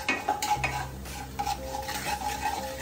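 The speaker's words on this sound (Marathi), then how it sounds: "हळद, लाल मिरची पावडर, थोडासा गरम मसाला, हे चांगलं फ्राय करून घेते" Turmeric, red chili powder and garam masala fry in hot oil with a close, steady sizzle, and a spoon scrapes and clinks against the pan in several short strokes.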